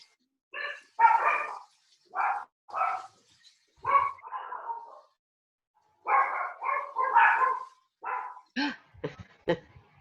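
Dogs bark in a quiet house, a series of sharp separate barks in uneven bursts with short gaps, some yips near the end, fairly close and with no talking.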